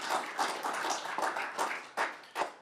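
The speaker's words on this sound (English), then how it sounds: "Can we give them a round of applause?" Audience at a municipal council meeting claps in a brief round of applause, a soft patter of hands with a few sharper slaps toward the end, heard alone without talk.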